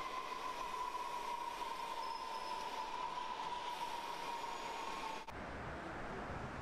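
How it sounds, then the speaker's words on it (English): A subway train rumbles along the rails, steady and loud, with a thin high squeal from the wheels that cuts off abruptly near the end. "They're riding on the subway."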